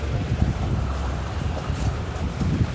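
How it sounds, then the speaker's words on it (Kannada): A rechargeable 16-inch AC/DC table fan runs at its third and highest speed. It gives a steady, close whoosh of rushing air with a low rumble underneath, and no one speaks. "ಫ್ಯಾನ್ದರ ಸ್ಪೀಡ್ ಬೆಸ್ಟ್ ಐತಿ ನೋಡ್ರಿ."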